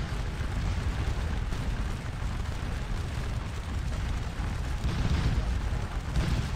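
Skirmisher units fire muskets into an enemy flank in the video game Scourge of War: Waterloo, a dense crackling rattle of volleys and booms forming a continuous loud battle roar with swells near the end.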